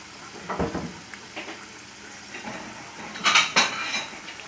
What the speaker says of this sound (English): I'm going to put this on a plate, and we're going to cut it open immediately.